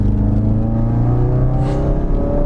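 A Ford Focus RS with a retuned ECU and an aftermarket dump pipe accelerates hard. Its engine roars loud and close, and the harmonic tones climb steadily as the revs rise.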